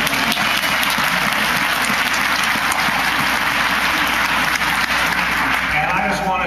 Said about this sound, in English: could you give yourselves a round of applause for your wisdom?